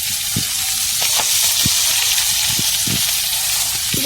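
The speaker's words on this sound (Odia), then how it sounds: "ଆମର ଏଠି ଚୁଲିରେ ମୁଁ ମାଛ ଭାଜୁଛି" Fish frying over a traditional clay stove, a steady broadband sizzle running throughout with a few soft low knocks and pops rising from the pan, close and fairly loud.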